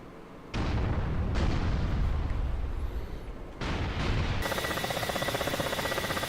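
Ka-50 helicopter in DCS World firing its cannon on a gun run, dense continuous rapid bursts of gunfire and booms over engine roar, loud and close, ending in a steady rattling drone.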